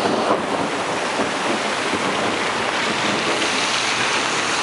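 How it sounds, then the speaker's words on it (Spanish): Steady outdoor rain falls in a continuous, even wash of hiss with some wind-like rumble, loud and unbroken with no talk over it. "Está lloviendo de nuevo."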